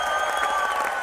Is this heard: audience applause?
yes